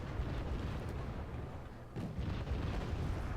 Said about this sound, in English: these 81mm mortars are just setting all these fires around in that tree, these tree lines